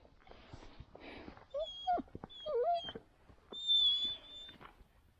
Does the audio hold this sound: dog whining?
yes